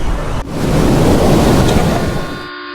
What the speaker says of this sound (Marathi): रत्नागिरीतला मला आवडलेला सर्वात सुंदर बीच तुम्हाला दाखवतो